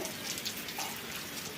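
Steady rain falls outside during a week-long spell of wet weather, a soft, even patter and hiss of drops on surfaces that continues without a break.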